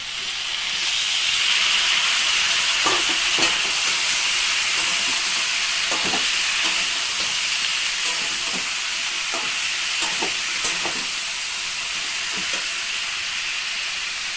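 Raw jackfruit tipped into potatoes frying in a pan for a Bengali jackfruit curry gives a continuous bright sizzle, broken by scattered scraping clicks of stirring, with no talk.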